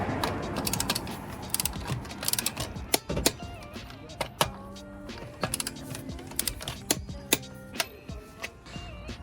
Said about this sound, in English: And then we can just torque these nuts.